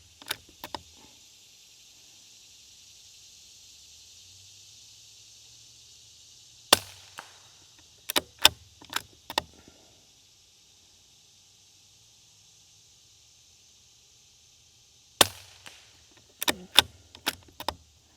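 Shots from a Vudoo Ravage .22LR bolt-action rifle fired at a target 100 yards downrange, sharp cracks in spaced clusters with mechanical clicks between them and an outdoor insect hum beneath.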